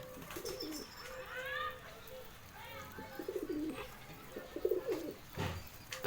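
Pigeons in a loft give repeated low, throaty coos in short bursts, close by, with a few soft chirps and light rustling between calls.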